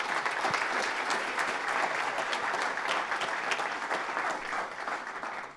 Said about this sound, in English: Big round of applause for Greg.